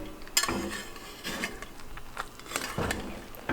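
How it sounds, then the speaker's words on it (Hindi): A metal spoon scraping and clinking against a pot while chicken biryani rice is gently mixed, several soft separate scrapes at an irregular pace, close by and alone. "इसको साइडों से चम्मच डाल के आहिस्ता आहिस्ता से चावलों को मिक्स करें आप।"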